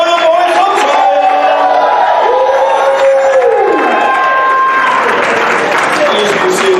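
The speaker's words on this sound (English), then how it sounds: "Come on, clap your hands, all you people. Shout unto God with a voice of triumph." A church congregation claps and shouts together in a loud, sustained burst, with voices cheering over steady clapping while people talk and call out.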